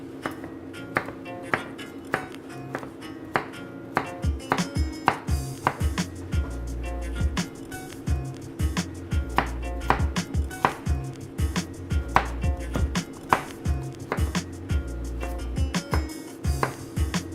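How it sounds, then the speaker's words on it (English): A knife chops a carrot repeatedly against a cutting board, crisp close thumps in a steady rhythm, some faster runs, over a faint background hum. "Start by chopping my carrot down the middle, and then I'm going to slice it"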